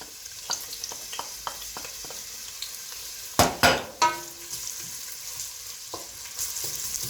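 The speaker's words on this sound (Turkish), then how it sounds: "Bu arada yağımızı soğanımızı ekliyoruz." Oil sizzles steadily in a pan with onions frying for stuffed ribs, a few sharp crackles and clinks of stirring breaking through midway, no voices.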